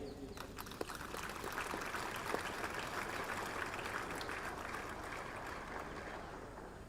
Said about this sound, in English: a big round of applause to the cadets and the drill sabs who made this possible